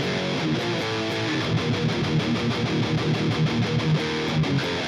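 A distorted electric guitar plays the fast, chugging chorus riff in tight, rapid palm-muted rhythm, steady and alone with no voice.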